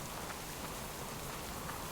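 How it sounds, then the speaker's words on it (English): Steady rain in the survival video game Subsistence, a dense even hiss of falling drops that carries on alone without a break or any talk. "it's raining"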